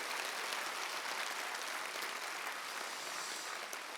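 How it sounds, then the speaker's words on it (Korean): Lecture audience applauding in a hall, dense continuous clapping from many people heard at a distance, even in level for the whole stretch without talk. "옆에 사람에게 박수 한번 치세요."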